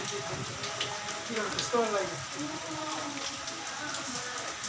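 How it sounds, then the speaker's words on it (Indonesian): Rain falls steadily on a construction site, a continuous hiss of drops patter across surfaces with faint clatters mixed in throughout. "Ini lagi hujan, guys."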